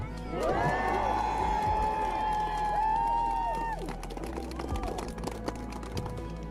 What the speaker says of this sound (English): And also a big round of applause for the blood bags.